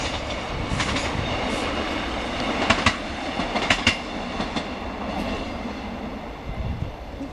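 A small diesel train unit running toward Spalding, heard as a steady rumble with rhythmic clickety-clack over the rail joints and a faint squeal, fairly distant and unaccompanied by speech.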